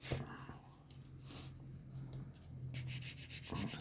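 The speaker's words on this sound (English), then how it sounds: "Give that a quick sand." A plastic model part gets a quick rub with 800-grit sandpaper: soft, close scratching, then a burst of rapid, louder back-and-forth sanding strokes at the end.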